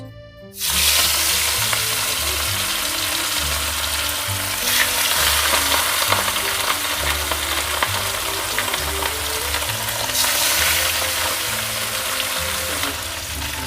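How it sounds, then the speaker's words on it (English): Fish dropped into smoking hot mustard oil erupts into a loud, dense sizzle that continues steadily and close, with popping spatter and a faint low hum beneath, no speech. "Now it's smoking hot, so I am adding the fish."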